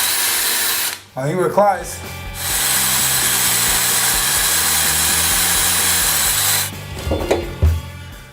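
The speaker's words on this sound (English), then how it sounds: "Basically what I am doing is just drilling the plug out from around the screw." Power drill boring out a wall plug around a screw, a sustained close whine with a grinding buzz, briefly interrupted where a voice speaks, then stopping at the end as talk resumes.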